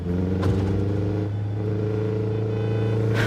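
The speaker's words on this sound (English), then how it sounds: "all the car sounds are a bit low quality" Subaru WRX engine running in the game Neverness To Everness, a steady buzzy low rumble with a slight pitch dip midway, loud and continuous with faint clatter at the edges.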